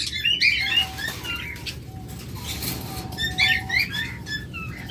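Pet lovebirds, budgerigars, cockatiels and conures kept for sale chirp and squawk in bursts of sharp, high calls, mixed with fluttering wings and a steady background hum.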